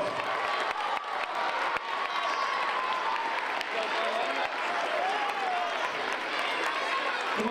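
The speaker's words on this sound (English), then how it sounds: "Give these guys a big round of applause." Crowd applause and cheering at a St. Baldrick's Day head-shaving event, steady loud clapping with scattered shouts and voices mixed throughout, continuing for several seconds.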